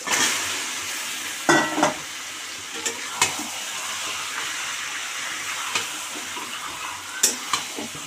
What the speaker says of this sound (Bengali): এবারে আমরা এতে দিয়ে দেব নুন হলুদ দিয়ে মেখে রাখা চিকেনটা।